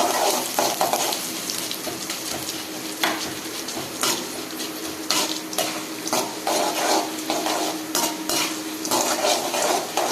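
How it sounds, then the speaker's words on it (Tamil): Chana dal and urad dal roasting in hot oil in a pan, a continuous close sizzle broken by repeated scrapes and clinks of a spatula against the metal, with no talk. "அதோட நம்ம கடலைப்பருப்பும் போட்டுக்கலாம், உளுத்தம் பருப்பும் போட்டுக்கலாம். நல்லா வறுத்துக்கலாம்."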